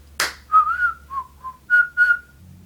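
A person whistles a short tune of about six clear, bright notes, alone and close, after a brief breathy burst at the start.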